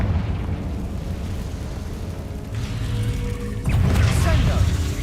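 Confringo fire spells go off in Hogwarts Legacy as a rumbling, bassy blast over a constant low game soundscape, with a sharper burst and crackling swell near the end.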